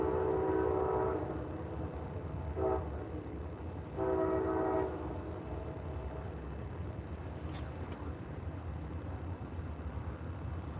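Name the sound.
train passing with horn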